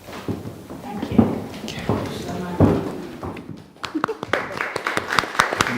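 Wedding guests break into light, scattered clapping after a reading at a ceremony, sharp separate claps rising toward the end with voices talking over the start.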